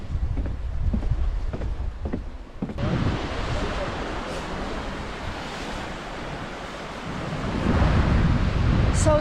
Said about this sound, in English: Down here we can have a look at the beach.